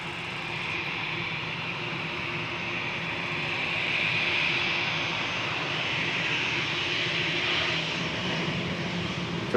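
Austrian-registered jet bound for Berlin taking off at Amsterdam Schiphol, a sustained engine roar that swells to a peak midway and holds, fairly close and loud, with no talk.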